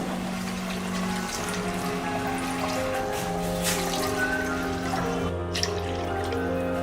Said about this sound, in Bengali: মোট তিন কাপ পানি আমি এখানে অ্যাড করেছি